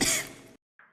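A woman gives a single harsh cough close by, then falls briefly silent and makes a faint throat-clearing sound.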